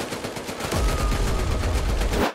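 Rapid automatic gunfire from enemy soldiers in the VR shooter Medal of Honor: Above and Beyond, a dense loud burst of overlapping shots continuing for about two seconds.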